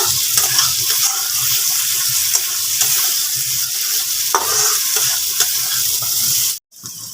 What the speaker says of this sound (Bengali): ভালো করে কিন্তু মশলাটাকে কষিয়ে নিতে হবে। আর এই সময় গ্যাসের ফ্লেম কিন্তু মিডিয়ামে দিয়েই কষাতে হবে।